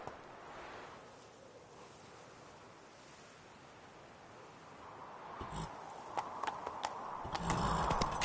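Roach the horse trots in The Witcher 3: Blood & Wine, faint hoofbeats under a soft wash of ambient noise that grow into a louder run of clip-clops over the last few seconds.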